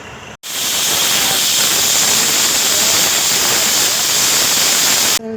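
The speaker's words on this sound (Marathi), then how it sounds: "कुकरचं झाकण लावून त्याला तीन शिट्ट्या घ्यायच्या आहेत" A pressure cooker on the stove, cooking matki for misal, lets off a loud, steady rush of hissing steam that starts abruptly after a brief pause and holds constant to the end.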